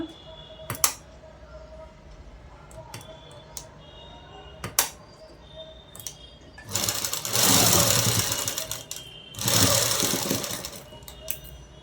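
A sewing machine stitches dress cloth in two short runs of rapid whirring, after a few scattered clicks and taps at a quiet indoor workstation.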